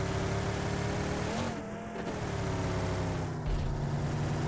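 A car is driven in the mobile game PUBG Mobile, with a sustained engine drone that shifts pitch as it revs and changes gear, loud and close the whole time.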